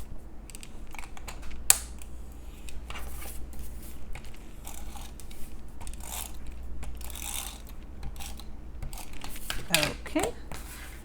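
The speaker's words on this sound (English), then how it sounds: "I'm just going to use some tape from my tape runner." A tape runner rolls adhesive onto papercraft during die-cut card making, heard as short crackling, ratcheting bursts and clicks up close, scattered irregularly with soft handling noises between.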